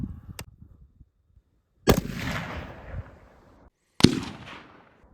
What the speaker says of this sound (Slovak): Druhý výstrel 2893 fps. 115 decibelov.